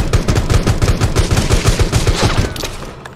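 Rapid automatic gunfire in the video game Rules of Survival, a dense, loud stream of close shots in steady rhythm that tapers off near the end, with no voices over it.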